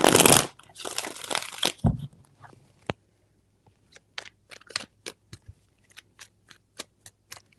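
Tarot cards being shuffled up close: a couple of seconds of brisk riffling and rustling, then scattered soft taps and snaps as the deck settles, otherwise quiet.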